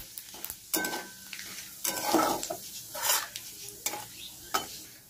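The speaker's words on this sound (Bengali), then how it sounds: "এটা একটু ভেজে নিই" Dried red chilli, bay leaf and cumin crackle and sizzle in hot oil for a chicken kosha, with repeated stirring scrapes and bursts of spluttering close by, no voices.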